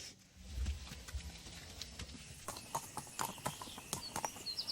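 Retired racing brood mares walking on a hard surface, their hooves clip-clopping in a quick, irregular patter at moderate distance, fairly quiet, with a low rumble near the start.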